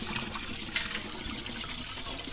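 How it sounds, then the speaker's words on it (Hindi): Water flows from a village water supply in a tribal village, a faint, steady trickle and splash running continuously without talk. "तो ये यहाँ से पानी आ रहा है देखो,"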